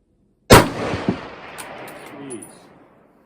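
A Tikka .30-06 rifle firing a 155-grain Berger VLD bullet at a long-range shooting setup gives one sharp, loud shot whose report rolls and echoes for a few seconds before fading.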